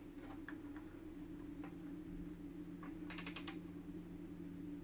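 A torque wrench ratchets on an engine being built for a Suburban, giving a quick, light run of about five clicks midway through, fairly quiet above a steady low workshop hum.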